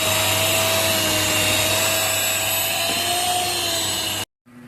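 An electric mixer blends butter cookie dough made with wheat flour, giving a loud, steady motor whir that runs without a break for about four seconds and then cuts off abruptly.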